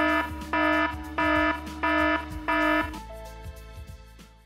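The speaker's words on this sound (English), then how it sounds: "a second alarm goes off and things get real" Aircraft cockpit alarm sounding, a loud electronic tone pulsing in five even bursts about once every half second, then fading to a softer lingering ring, close and with no talk.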